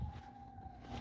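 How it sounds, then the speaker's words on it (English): A single steady siren tone from emergency vehicles in a snowy Texas city, faint and distant under low street rumble. "You hear the sirens?"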